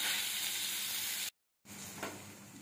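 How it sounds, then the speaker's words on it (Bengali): Onion paste and dried red chilli frying in a pan, giving a steady, fairly loud sizzle with faint stirring, broken by a short silent gap before the frying hiss resumes. "এবার দিয়ে দেবো একটুখানি পেঁয়াজ বাটা। সামান্য বেটেছি পেঁয়াজটাকে, এটা একটুখানি নেড়ে ভালোভাবে ভেজে নেব।"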